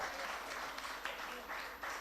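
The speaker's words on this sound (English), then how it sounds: "Give them a big round of applause" A college audience at a valedictory ceremony applauds the runners-up team, a short burst of dense clapping heard at moderate loudness that holds steady for its brief length.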